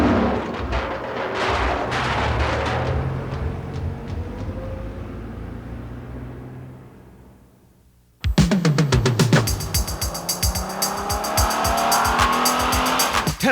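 A Nissan Hardbody pickup's V6 engine revs hard while tires squeal and skid, fading away before a sudden loud burst of squealing, roaring engine noise close by.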